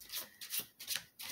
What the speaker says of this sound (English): shuffling them is going to be, like, easy